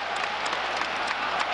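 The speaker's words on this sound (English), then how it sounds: "Ripple of applause from the Spurs fans." Spurs fans in a football stadium give a ripple of applause, a broad, steady wash of clapping from a large crowd heard at a distance for a moment.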